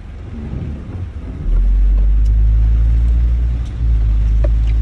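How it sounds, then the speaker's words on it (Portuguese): A car drives past close by, its engine building from a low rumble into a loud, heavy drone that holds for several seconds with road noise and no talk. "Deixar esse carro passar"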